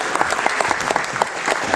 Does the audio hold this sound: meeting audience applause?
yes